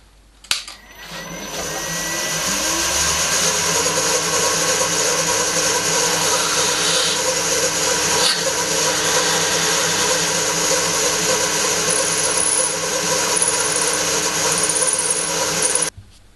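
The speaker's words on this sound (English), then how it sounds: "the parts were clamped together square and then through drilled 5mm" A drill bores 5mm holes through metal parts clamped square for a router sled, a loud, steady whir and grind running continuously for about fifteen seconds with no talk.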